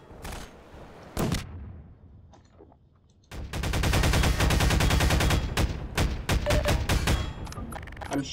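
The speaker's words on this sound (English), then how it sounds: "I'm shooting at the guy." Bursts of automatic gunfire from a firefight in Half-Life 2, loud and rapid, with a short burst early on, then long, sustained volleys of repeated shots dominating the latter half.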